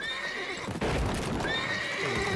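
Roach, the horse in The Witcher 3: Wild Hunt, lets out a loud, close whinny that breaks off briefly and then resumes. Faint hoof clip-clops sound underneath.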